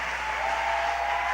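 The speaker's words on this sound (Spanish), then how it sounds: "Dale un fuerte aplauso a mi Madre Espíritu Santo porque ella se lo merece" A church service congregation applauds, a brief, steady wash of many hands clapping together at moderate loudness, heard alone without any voices.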